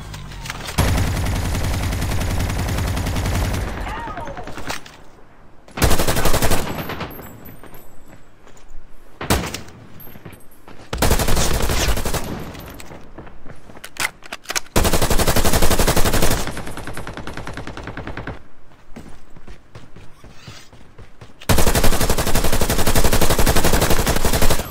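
Shotgun hip fire in Call of Duty Mobile, loud repeated blasts in several heavy bursts separated by quieter gaps of game noise, with sliding and clanking sounds between volleys.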